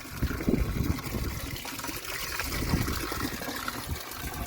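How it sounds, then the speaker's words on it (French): Water trickles and splashes steadily from a village fountain at Urteaga on the Camino Francés between Pamplona and Puente la Reina, a close, continuous babbling stream without pauses. "De Pamplune à Puente la Reina, à Urteaga, c'est la meilleure fontaine."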